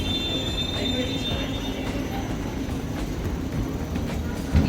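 Aboard a departing train in Belgium, a continuous low rumble of wheels on rails fills the carriage with a faint high squeal early on and occasional soft clicks and bumps.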